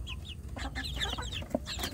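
Small free-range village chicks in a box peep and chirp repeatedly in short, high calls, close by, with faint rustling in the background.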